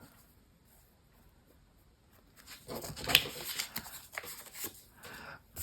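Paper torn by hand for a mixed media ledger journal page, heard after a quiet start as a dry, ragged rip with scratchy bursts at close range and no talk.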